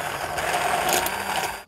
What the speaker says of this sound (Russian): Теперь погружным блендером пробиваем.